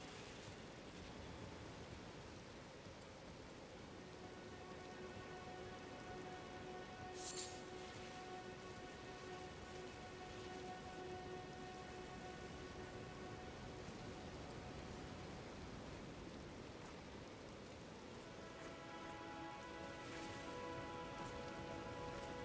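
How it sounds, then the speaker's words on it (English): Rain falls in the video game Elden Ring, a soft, steady hiss of drops with faint tonal music beneath, quiet and continuous throughout, with no talk over it. "it's raining"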